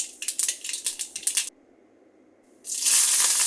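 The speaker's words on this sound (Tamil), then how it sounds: "கடுகு நல்லா பொரிஞ்சதும்" Mustard seeds crackling and popping in hot oil in a pan, a quick run of sharp close spatters, a short lull, then a loud continuous sizzle.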